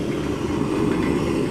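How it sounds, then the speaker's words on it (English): A rocket stove on full burn gives off a steady, close, low roaring rumble that holds constant throughout, with no voices over it. "That's what you call a rocket stove. It's on max. Look at it going."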